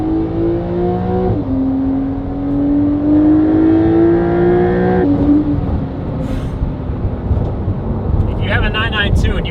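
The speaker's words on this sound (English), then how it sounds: "Really nice off-throttle sound as well as the revs come down." Porsche 992 Carrera 4S with a titanium exhaust and free-flow downpipes, loud and close: a rising rev that drops off, then climbs again before falling away with off-throttle crackles at the end.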